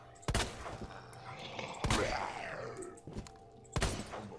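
Gunshots in the video game Resident Evil 2: three or four separate loud shots spaced about a second apart, each followed by a short echoing tail, with faint game ambience between them.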